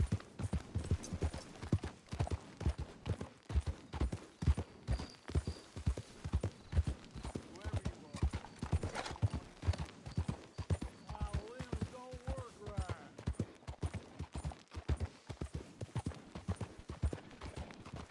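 Horse hooves clip-clop steadily in Red Dead Redemption, a continuous rhythmic trot that stays close and clear. A short whinny-like sound comes through in the middle, with a few brief in-game sounds alongside.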